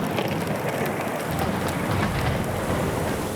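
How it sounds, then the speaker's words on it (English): Heavy rain pours steadily with rumbling thunder during a worsening storm on the Florida coast, a dense, loud, continuous wash of sound with no voices. "The storm is getting worse."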